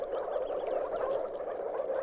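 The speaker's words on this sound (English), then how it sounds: "an incessant glugging sound reverberates throughout some moors. It's the call of the moor frog." Moor frogs calling in a marshy low moor, a dense chorus of soft glugging croaks running continuously, steady and moderately loud with no pauses.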